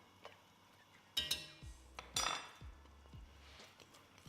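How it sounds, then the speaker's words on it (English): A spoon stirs flour and butter into a coq au vin sauce in a pot, giving a few distinct metallic clinks and scrapes against the pan amid quiet kitchen background. "Straight in, stir it through, very important to stir it through"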